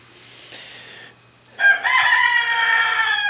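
Chickens in a large backyard run beside a coop, with soft clucking first and then a loud, close rooster crow that holds its harmonic call for over a second.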